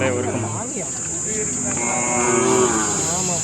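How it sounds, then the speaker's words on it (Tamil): Old native-breed cattle at a weekly village cattle market near Palayakottai give drawn-out moos, one early low call followed by longer lowing, amid a buzzing insect drone and nearby voices talking. "பழைய நாட்டு மாடு. பழைய வர்க்க மாடு."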